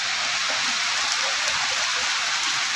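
Heavy rain pours in a dense, steady hiss that fills the whole span, with no thunder or voices standing out above the continuous downpour.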